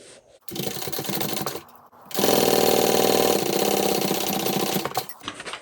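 A sewing machine back stitching a handbag runs in a short burst, pauses, then hums steadily for about three seconds before stopping, close and loud.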